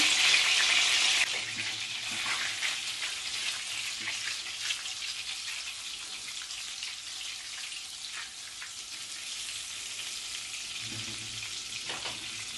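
Cumin seeds fry in a small amount of oil in a tiny home kitchen, a faint, even crackling sizzle that starts slightly louder and settles into a quiet steady hiss.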